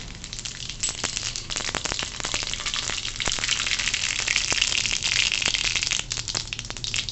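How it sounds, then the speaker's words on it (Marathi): Cumin and mustard seeds sizzle in hot oil in a wok for a wild kartoli vegetable dish, giving a steady loud frying hiss dotted with sharp crackling pops throughout. "कढईमध्ये तेल टाकायचं त्यात आपण जिरं मोहरी एकत्रित टाकते"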